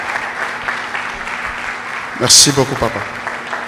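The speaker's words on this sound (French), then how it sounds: "Nous allons l'accueillir sous nos acclamations." A church conference crowd claps and cheers to welcome a speaker, with steady applause under a voice speaking briefly in French and a burst of louder cheering midway.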